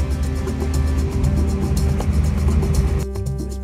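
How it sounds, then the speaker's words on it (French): A car engine is pushed to full throttle with a loud, close, rumbling drone that holds steady before dropping away near the end. "Je suis pied au plancher, vas-y! Accélère!"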